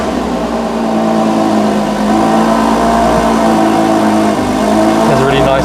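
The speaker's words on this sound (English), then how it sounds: "let's do a cold start for the Emira." A Lotus Emira V6 engine runs loud and steady just after a cold start, with a deep droning tone and slight rises in revs near the end, while a person talks over it.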